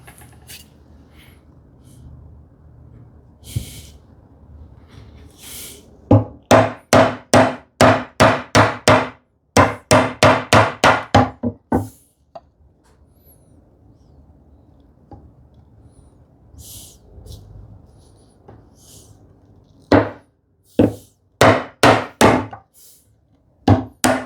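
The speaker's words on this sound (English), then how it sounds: "Now I can use my chisel to take that down from both sides." A mallet drives a hand chisel into wood for a speaker table enclosure, sharp loud strikes in rapid runs of eight to ten blows separated by quiet pauses.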